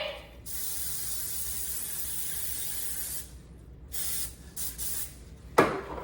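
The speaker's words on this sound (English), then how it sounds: "So, spray the cupcake tray, okay?" Cooking spray hisses onto a cupcake tray in several bursts: one long continuous spray, then a few shorter puffs close by, ending with a sharp clatter.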